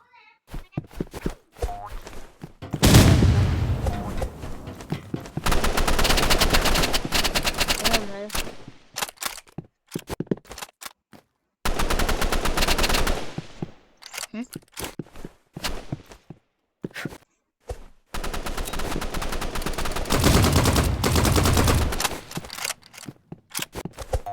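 Bursts of rapid automatic gunfire from a shooter video game rattle in long sustained runs separated by short gaps and isolated single shots, loud and close throughout.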